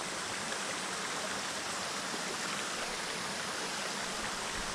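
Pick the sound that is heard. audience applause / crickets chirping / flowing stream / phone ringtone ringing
flowing stream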